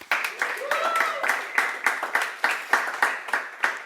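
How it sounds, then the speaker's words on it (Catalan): Brief applause during a live closing-show broadcast, a run of sharp, fairly close claps in a steady rhythm with a voice speaking over the start. "Aplaudiment també per ells."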